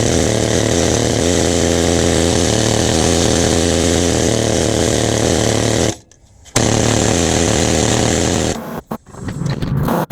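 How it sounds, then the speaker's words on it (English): Pneumatic needle scaler cleaning a brake line fitting on a 1948 Dodge during a rear brake rebuild, a loud, harsh continuous rattling buzz up close, cutting out briefly twice before restarting in short bursts at the end. "So we're just going to take and needle scale that."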